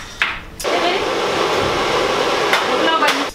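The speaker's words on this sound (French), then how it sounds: "elle va avoir peur du pulseur parce qu'il fait beaucoup plus de bruit par rapport au sèche-cheveux" A powerful dog grooming blower dryer roars steadily at close range for a couple of seconds, a loud continuous rushing airflow louder than a hair dryer, preceded by brief clicks and a short start.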